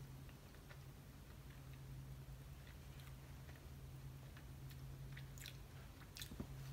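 Close, soft chewing and biting on green Candyland chili jelly beans, with small sticky crunches scattered over a steady low hum.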